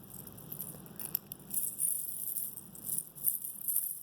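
Light, gentle rattling and jingling of a button fob on a pair of scissors, soft and close, coming in irregular bursts.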